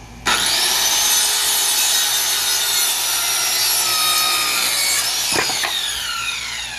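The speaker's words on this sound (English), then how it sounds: "Just going to cut the piece right down the line." A saw rips a long cut down a wooden board for a garden box, a loud, steady grinding rasp for about five seconds that stops with a couple of knocks.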